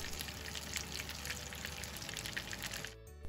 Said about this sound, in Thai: พอเริ่มร้อนก็ใส่ไก่ลงไปทอดเลยค่ะ